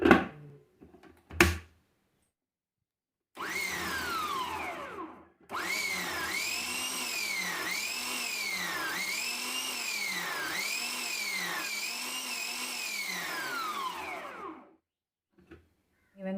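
Onions whirring in a pull-cord vegetable chopper, several rapid spinning bursts with rising and falling pitch in one long run after a short first pull, loud and close with no talking.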